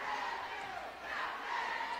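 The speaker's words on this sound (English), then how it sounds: "Huge crowd here today." Crowd of basketball fans roaring at a 2019 HBCU college game between Wilberforce and Central State, a steady dense wash of cheering that swells and dips over two seconds, fairly distant with no clear voices on top.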